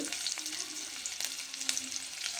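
Crushed garlic and green chilli paste frying in hot oil for a methi fry, giving a steady close crackling sizzle with a few sharper pops and light stirring throughout, no voices.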